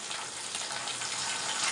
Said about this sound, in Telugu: ఒక గ్లాస్ నీళ్ళు పోసుకున్నాం.